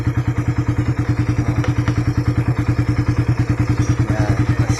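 A Suzuki Raider R150 motorcycle engine running on Shell Advance 10W-40 oil, idling with a loud, fast, even pulsing thump that holds a steady rhythm throughout, close up and without talk.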